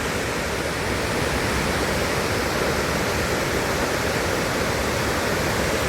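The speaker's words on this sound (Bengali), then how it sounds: "এই হচ্ছে সেই দেবকুণ্ড ওয়াটারফলস" Devkund waterfall pours in a continuous, loud broadband roar of falling water, steady and close throughout with no voices.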